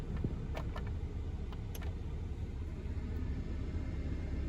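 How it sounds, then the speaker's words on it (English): A Jackery portable power station runs with a low, steady hum and rumble in a quiet space, joined by a few faint clicks and taps early on. "You can hear the Jackery running right now."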